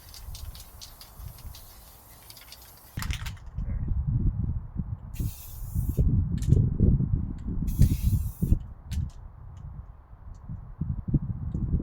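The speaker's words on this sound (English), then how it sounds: "We're going to spray paint a new jacket right by the bins." Spray paint can hissing in short bursts as a jacket is painted beside the bins in a video game, with a rattling mechanism and two distinct hiss sprays over a low rumbling background.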